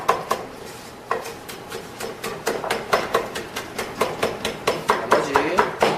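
A knife julienning yellow and orange paprika on a cutting board, giving a rapid, regular series of sharp chopping knocks that speeds up and stays close and loud.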